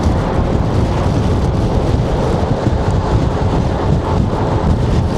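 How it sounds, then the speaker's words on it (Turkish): Constant heavy wind buffets the microphone while riding a Honda Forza 250 scooter, a loud, unbroken low rumble with no other sounds coming through. "inanılmaz bir rüzgar var"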